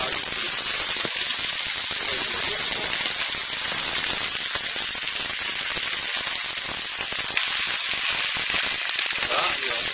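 Eggs fry in hot oil for a wild garlic omelette, a loud continuous crackling sizzle with dense, fizzing texture that holds steady from start to finish.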